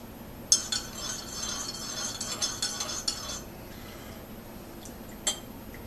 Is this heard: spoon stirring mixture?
yes